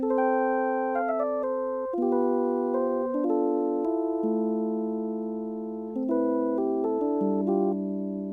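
A bright, bell-like FM synthesizer keys patch from a Yamaha PCI synth rig plays sustained chords, shifting every couple of seconds, clear and alone with no voices.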